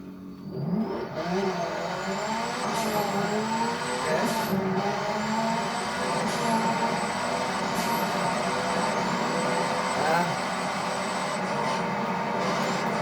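Car racing in the Roblox game Driving Empire: a steady, loud engine drone with rising revving tones that climb repeatedly in pitch, continuous throughout with occasional high whistling sweeps.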